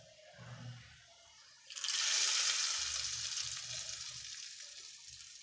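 A hot tempering of garlic and red chili is poured over dal and spinach, bursting into a loud, steady sizzle that slowly fades. A voice talks quietly before and during it.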